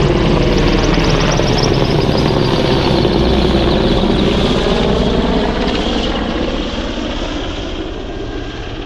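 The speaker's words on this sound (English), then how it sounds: "it could also be a helicopter buzzing right over our head right now" A helicopter flies low overhead above the Carn Euny ancient village site in Cornwall, its loud, continuous rotor and engine roar filling the air and fading slowly toward the end, with no talking.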